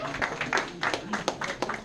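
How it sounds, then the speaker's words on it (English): Audience applause at a mixtape event, a short ragged burst of clapping with distinct individual claps, mixed with people talking and cheering. "Round of applause for both of these geniuses."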